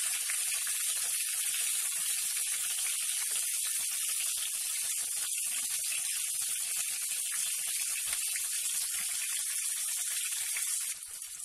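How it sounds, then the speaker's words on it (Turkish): Tomato slices fry in a hot pan for a Turkish breakfast dish, giving a steady, dense sizzle that holds evenly throughout and eases slightly at the very end, with no talking over it. "dizmiş olduğumuz domatesleri arka ve önlü bir güzel kızartalım"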